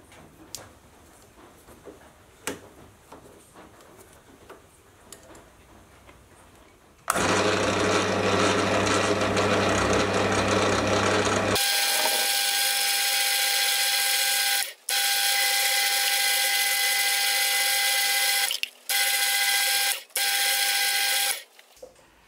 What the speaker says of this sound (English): I'm also going to add a knurl pattern.